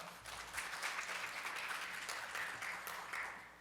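An audience at a business forum session applauds steadily, a dense wash of clapping at moderate distance that holds for several seconds and then begins to taper.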